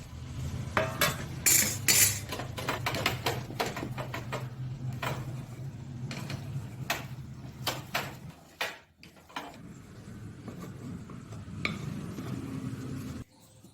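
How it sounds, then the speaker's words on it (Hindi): A spatula scrapes and taps repeatedly against a greased metal plate while stirring a thick kaju katli cashew mixture, producing close, irregular clinks and scrapes with a brief pause near the middle. "शिफ्ट करने के बाद भी मैं इसको लगातार स्पैचुला से हिलाती जा रही हूँ"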